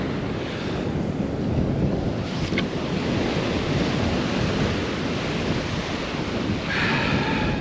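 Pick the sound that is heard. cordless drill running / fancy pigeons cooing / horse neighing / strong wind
strong wind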